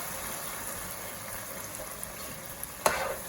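Garlic, onions and scallions sizzling steadily in a pan with coconut milk added, under a continuous hiss and a brief sharp clatter of stirring near the end.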